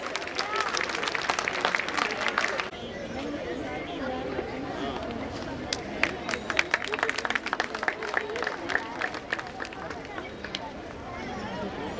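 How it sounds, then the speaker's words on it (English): An award-ceremony audience claps for teachers, a crowd's uneven applause with sharp individual claps standing out, growing louder after a brief dip, with voices mixed in underneath. "So audience, can we have a huge round of applause for our teachers?"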